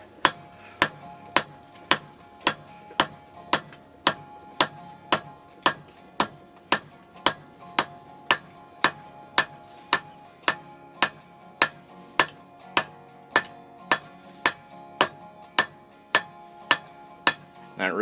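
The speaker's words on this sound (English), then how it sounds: "I'm going to go ahead and use the cross peen on my hammer here." A cross peen hammer draws out a San Mai Damascus billet for a skinner knife, striking hot steel in a steady, evenly spaced series of about thirty sharp, ringing blows, up close with only faint background noise.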